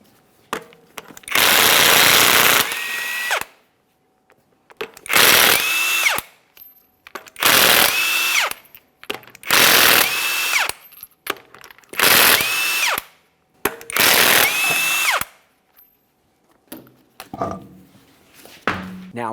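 Six bursts of a pneumatic impact wrench spinning off 22mm lug nuts from a 2017-2024 GMC Acadia front wheel, each loud high whine lasting about a second with short gaps between, followed by a faint clink of metal at the end.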